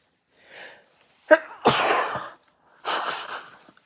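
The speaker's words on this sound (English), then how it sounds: "I'm about to sneeze." A single sharp human sneeze, loud and close, preceded by a brief intake of breath and followed by a second exhale burst, with no talk over it.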